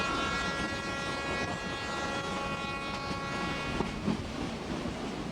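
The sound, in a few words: slow narrow-gauge train in the Urubamba valley, Peru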